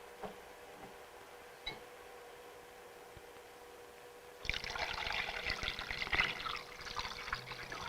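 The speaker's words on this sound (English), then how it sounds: "Fill this up with water." Water pours steadily into a one-liter cube container, a bright continuous splashing trickle that starts abruptly partway through after a few faint clicks and quiet room tone, then runs on close and fairly loud.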